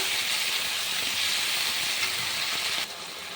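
Cumin and ginger paste sautéing in a pan after frying potatoes for a light fish curry, a continuous bright hiss of sizzling oil that drops quieter near the end, with no voices.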